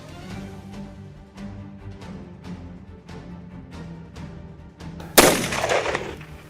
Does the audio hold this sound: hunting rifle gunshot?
yes